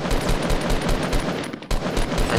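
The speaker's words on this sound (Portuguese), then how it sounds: "mas tô ouvindo tiro." Rapid automatic gunfire in the video game Fortnite rattles on without pause, loud, dense bursts of shots following one another in a fast steady rhythm.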